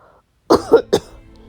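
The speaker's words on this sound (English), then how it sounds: "You're coughing and sneezing." A short burst of three harsh coughs, close and loud, the last one a bit apart from the first two.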